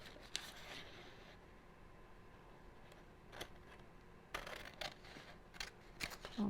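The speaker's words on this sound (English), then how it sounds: "I'm just going to go for it and cut it out." Scissors snip through patterned paper in a string of short, crisp cuts that come in small bursts, close and fairly quiet, with no talking.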